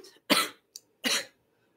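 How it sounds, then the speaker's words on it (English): Two harsh coughs about a second apart, close and fairly loud, with a tiny throat sound between them and quiet around. "this cough killing me"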